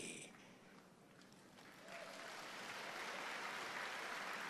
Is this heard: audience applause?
yes